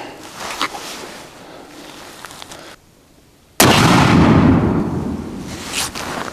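A .308 rifle fires a single 200gr ELD-X load-test round at 41.5 grains: a sharp, loud blast that breaks out of near-silence and rolls into a long, broad echo across an outdoor range.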